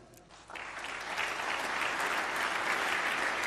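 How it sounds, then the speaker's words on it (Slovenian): An audience at an innovation award ceremony breaks into applause, quiet clapping swelling after a brief start into sustained, dense, even clapping from a large crowd, with no voices over it. "Še enkrat prosim za aplavz."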